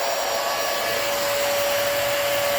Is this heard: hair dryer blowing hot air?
yes